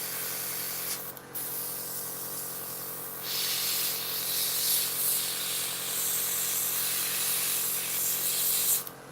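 Airbrush spraying paint onto a 1/48 scale Eduard Tempest model kit part, a steady close hiss running almost continuously with a brief pause near the start and a louder stretch in the second half.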